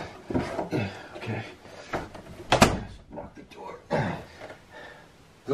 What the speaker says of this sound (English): That is a good knock at the door.